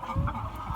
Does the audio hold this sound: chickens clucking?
yes